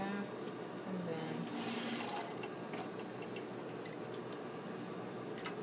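A sewing machine stitching a diamond dart runs in a steady fast rattle beneath a voice, with a few soft clicks near the end.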